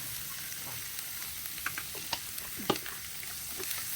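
Vegetable fried rice with carrots and cabbage sizzles steadily in a pan while a utensil scrapes and stirs it, with a few sharper clinks standing out over the continuous frying hiss.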